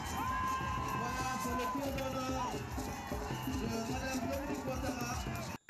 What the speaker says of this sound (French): c'est une marée de personnes visiblement heureuses qui l'accueillent, l'obligeant ainsi à prendre un bain de foule